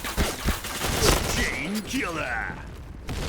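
Rapid gunfire from an XM7 rifle in a video game comes in a burst of sharp shots near the start, followed by mechanical clicks and swooping effect tones, with a voice speaking over the action.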